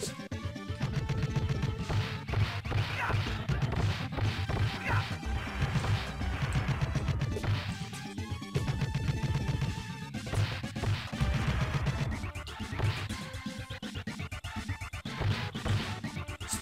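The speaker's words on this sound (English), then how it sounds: "just hitting these rock soldiers are just" Rock soldiers get smashed and thwacked in Teenage Mutant Ninja Turtles: Turtles in Time, the hits landing in rapid, dense succession over loud, continuous game music with no pause.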